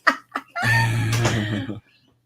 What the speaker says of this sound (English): All the turkeys are coming in for the night.